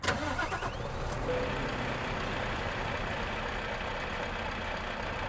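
A Scania truck in Euro Truck Simulator 2 cranks and fires up with a short starter burst, then settles into a low, steady diesel idle that stays moderately quiet.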